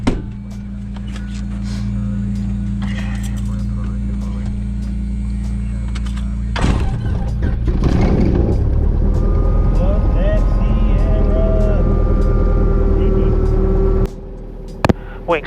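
A Cessna propeller aircraft engine sits under a steady low hum, then cranks with a sharp burst and catches into a loud, constant drone that runs to the end before cutting off abruptly.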